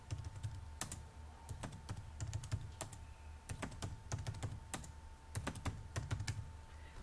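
Rapid typing on a computer keyboard while filling in name, username and password fields of a setup form, with steady clusters of crisp key clicks over a low background hum, no talking.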